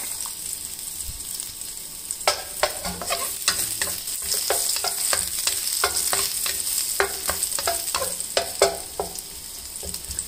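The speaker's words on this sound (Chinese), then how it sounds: "先放入蒜片爆香一下" Garlic slices fry in hot oil in a wok, a close crackling sizzle punctuated by a rapid run of sharp spatula clicks and scrapes against the metal, with no talking.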